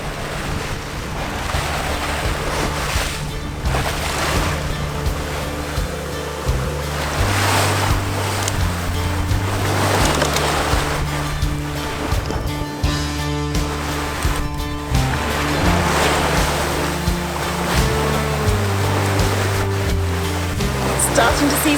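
Choppy sea waves slapping and rushing around a sailing boat making about 7 knots close-hauled in strong wind, a loud continuous wash with wind buffeting and a low steady drone underneath, no clear talk.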